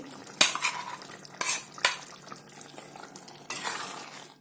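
A spoon scraping and stirring ground masala into mutton curry in a metal pot, several sharp clattering strokes with soft sizzling between them, close and without speech.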